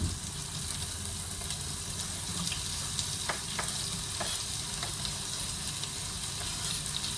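Onion and green chili dropped into hot oil with cumin seeds for Kathiyawadi sev tameta, a loud continuous sizzle and crackle with occasional stirring clicks, close up and without speech.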